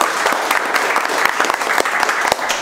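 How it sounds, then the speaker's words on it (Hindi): A burst of loud, steady clapping from a group, dense and continuous throughout without any voices standing out. "और एक बार तुम लोगों के लिए जोरदार तालियां।"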